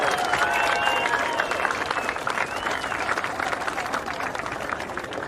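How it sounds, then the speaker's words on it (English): Crowd at the Western Australia Margaret River Pro surfing awards presentation claps and cheers loudly, dense applause with whoops and shouts that slowly tapers over several seconds. "Give yourself a round of applause."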